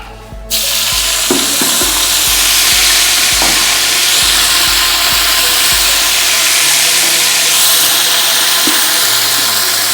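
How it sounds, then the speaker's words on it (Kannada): Fennel seeds crackle and fresh mint fries in hot oil for a Ballagiri Gowdru biryani, a loud, dense sizzle with repeated sharp stirring clanks against the pan, no voices. "ಇವಾಗ ಸೋಂಪು ಕ್ರ್ಯಾಕಲ್ ಸೌಂಡ್ ಬಂದಮೇಲೆ ಅದಕ್ಕೆ ಪುದೀನ"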